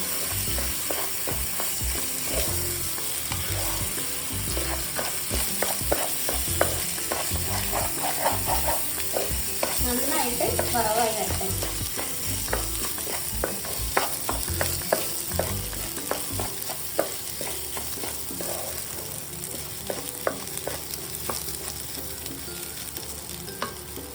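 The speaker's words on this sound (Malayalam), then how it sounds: "ഇപ്പോൾ ലോ ഫ്ലെയിമിൽ ഒരു അഞ്ച് മിനിറ്റ് അരി വറുത്തെടുത്തിട്ടുണ്ട്" Rice being dry-roasted and stirred in a pan on a low flame for ghee rice, with a continuous close sizzle and repeated scraping and clicking of the spoon against the pan.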